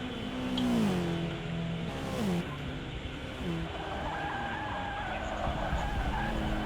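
LMP2 race cars in a sim racing game, engines wailing steadily with shifting pitch and gear changes, mixed together at a moderate level, with a commentator's voice present.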